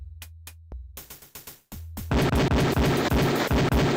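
Beretta pistol shots at a shooting range in the video game Police Quest 4: a few sharp reports, then a fast, loud string of evenly spaced shots near at hand.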